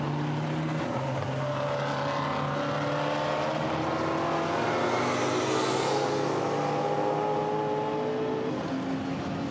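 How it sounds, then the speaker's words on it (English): GT4 race cars roar across the start line at Misano, several engines overlapping in a loud, sustained drone with rising and falling pitch as the pack passes and pulls away. "They come over the start line again to complete the sixth lap of racing here in Misano"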